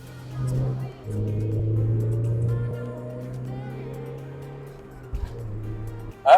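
A stock Mazda Miata MX5 with a 116-horsepower engine driving on track, a steady low engine drone holding for several seconds before easing off, with a brief knock near the end.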